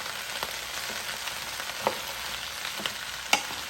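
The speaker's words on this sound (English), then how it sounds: "And I'm going to just stir it up." Vegetable casserole stirred in a Power XL cooker sizzles with a constant close frying hiss, marked by a few scraping utensil knocks against the pot and no voices.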